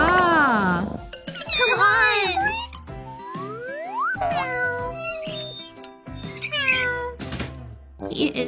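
A cat meows again and again, with bending, high-pitched cries in uneven bursts, close and clear, while a person calls to it and other voices and thumps come in between the meows.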